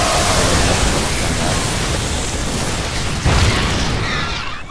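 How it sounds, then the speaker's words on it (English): StarCraft II siege tank artillery fire in a Terran versus Zerg battle, a dense continuous roar of blasts and explosions with a sharper thump near the end, loud and close, nearly free of speech. "So the siege tank opening fire"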